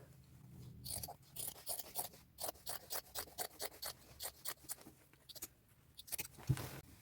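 Scissors snipping through denim jeans along the side seam of a pant leg, a quick series of sharp, close crunching cuts in an irregular rhythm, fairly quiet with no voice over it.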